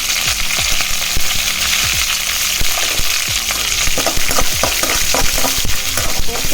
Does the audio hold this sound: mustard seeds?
yes